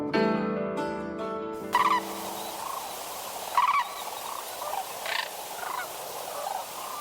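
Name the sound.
sandhill crane calls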